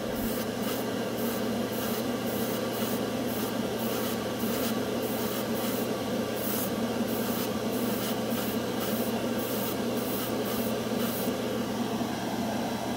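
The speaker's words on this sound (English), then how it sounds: "we're going to do the spoon" An airbrush sprays paint onto a metal spoon for a burned metal effect on models, giving a steady continuous hiss over a low hum, with short spitting pulses and bursts repeating throughout at moderate level.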